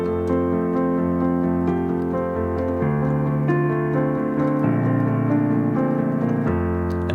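Solo piano plays the intro of a song, with sustained chords changing every measure in a steady, moderately quick pulse, close and moderately loud, with no voices.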